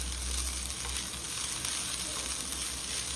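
Ingredients sauté in a pan while Diwali somas are being prepared, giving a steady, soft sizzle and frying hiss throughout with no voices.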